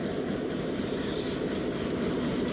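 A Japanese-built Hitachi locomotive hauling the 130 Down Thal Express at slow speed, heard as a continuous low rumble and rolling rail noise, steady and fairly distant, with no voices.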